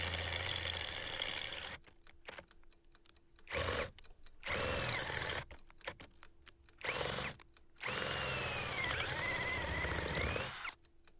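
A Parkside 12V Performance cordless drill with a metal bit bores through 3mm steel in several loud, whining bursts separated by short pauses, the motor pitch shifting under load.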